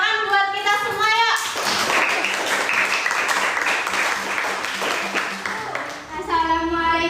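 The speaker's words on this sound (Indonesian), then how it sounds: "tepuk tangan buat kita semua ya" A classroom group of students breaks into dense, steady clapping for about four and a half seconds, with voices talking just before and after it.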